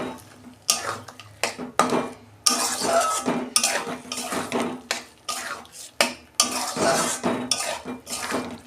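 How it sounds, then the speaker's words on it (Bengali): Palak paneer is stirred in a metal pan, with a spoon repeatedly scraping and knocking against the sides in brisk bursts, loud and up close. "2 মিনিট একটু নাড়াচাড়া করব।"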